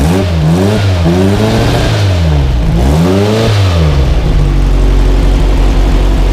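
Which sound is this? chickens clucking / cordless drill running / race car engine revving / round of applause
race car engine revving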